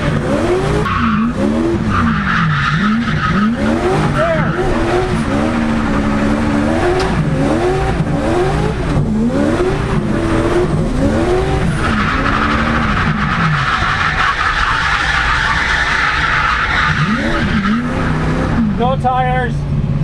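A 1UZ-powered turbo Nissan 200SX drift car slides with long, loud tire squeals rising and falling in repeated sweeps over a hard-revving engine, sustained and close for the whole stretch.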